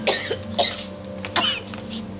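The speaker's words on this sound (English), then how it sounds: "That's a rotten bark you've got there" Several harsh coughs close by, clustered in quick bursts over a steady low background hum.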